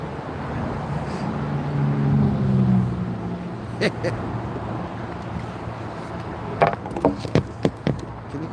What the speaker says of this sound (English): Can you quiet down the cars?